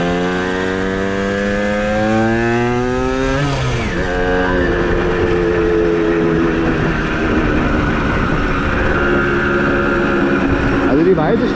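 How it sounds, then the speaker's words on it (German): The engine of a white Simson Schwalbe KR51/1 moped runs close by. Its buzzy tone rises as it revs up and then settles into a steady, rough running note with some surrounding noise. "weiße Schwalbe läuft schon geil, muss ich sagen, der Motor."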